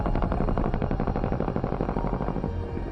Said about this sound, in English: a blast of the machine guns and their recognizable sound.